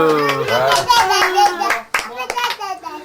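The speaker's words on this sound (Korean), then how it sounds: "박수" Children clap their hands in short, uneven bursts at a children's gathering, with kids' voices and singing-like tones running over the claps throughout.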